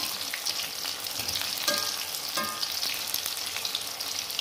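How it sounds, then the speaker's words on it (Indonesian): Tofu coated in flour batter fries in hot oil with a dense, continuous sizzle, broken by a few sharper crackles and the faint scrape of stirring, close and loud with no talk. "Kita goreng ya tahunya pakai tepung supaya tidak pecah."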